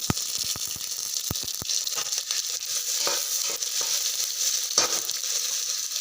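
Onion and tomato frying in hot oil for a tempering, a steady soft sizzle and crackle with a few sharp clicks of a utensil against the pan early on and occasional stirring scrapes, close by and without talk.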